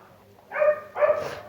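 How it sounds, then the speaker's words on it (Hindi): Dogs barking in a Minecraft story, two short loud barks in quick succession after a quiet start, close and clear with no talk over them. "उसे कुछ कुत्तों की भौंकने की आवाज़ आती है।"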